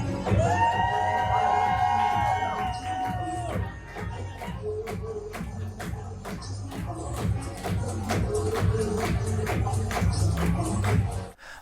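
A drag show audience claps and cheers over loud music, with sharp scattered claps and crowd noise running through the whole stretch.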